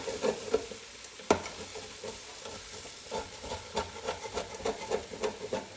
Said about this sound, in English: Probably need a good stir.